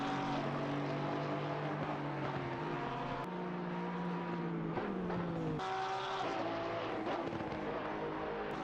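GT3 race cars at Imola in a sim racing game, several engines roaring loud and continuous with rising and falling revs as they shift gears, no talk.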